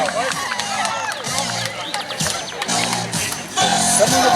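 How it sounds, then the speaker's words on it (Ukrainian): Crowd applause and cheering at an outdoor sports festival finish line, a continuous dense wash of clapping, whoops and babble, loud and close, swelling again near the end. "Оплески!"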